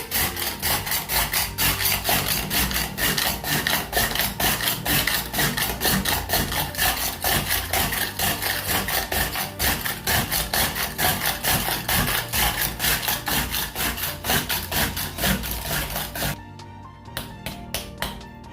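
Rough, rapid scraping strokes of a hand ice shaver across an ice block for raspados, continuous and loud, slowing to a few scattered scrapes at the end.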